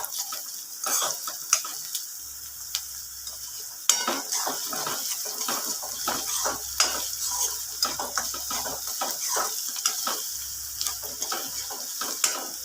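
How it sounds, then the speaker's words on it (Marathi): Garlic paste frying in a pan for mung dal bhaji while being stirred until it reddens, with a soft sizzle under frequent clicking spoon strikes and scrapes against the pan; no talking. "लसणाची पेस्ट टाकायची आहे आणि छान व्यवस्थित एकदम लाल होजेपर्यंत एकदम हलवायचं"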